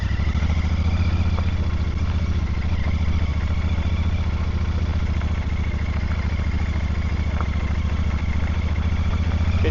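A Royal Enfield Super Meteor 650 fitted with a lowering kit rides along a bumpy lane, its engine thrumming steadily and loud, with light clatter from the rough surface.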